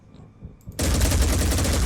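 Weapon fire in the Phoenix Point video game breaks out abruptly after a quiet lead-in, becoming a loud, dense, continuous barrage that runs to the end.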